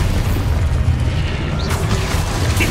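Expulso blasting spell going off in Hogwarts Legacy, a loud, dense burst of low rumble with crackling debris running through the whole short moment, alone without speech.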